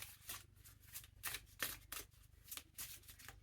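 Playing cards are handled, drawn and shuffled close by, a quick series of crisp riffling flutters and soft slaps repeating in short bursts, quiet and without speech.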